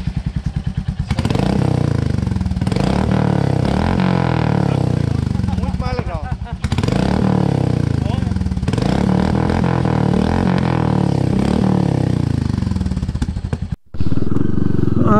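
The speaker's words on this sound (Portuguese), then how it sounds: "Liga sua moto aí, que a moto é sua." A Royal Enfield Classic 350 motorcycle with a newly fitted sport exhaust tip revs hard in repeated surges, throaty and close, briefly cutting out near the end.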